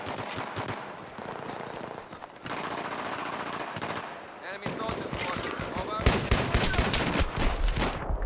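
Dense bursts of automatic gunfire and single shots from a Battlefield 3 Gun Master match on the Talah Market map, loud and near, running nearly the whole time with players' voices mixed in.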